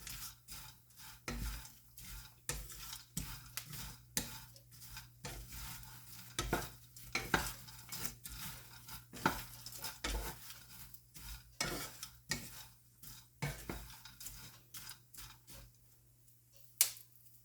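Bitter gourd roasting in oil in a pan for chutney, with a steady near sizzle broken by repeated scraping and clattering strokes of a spoon stirring the pieces, no talking.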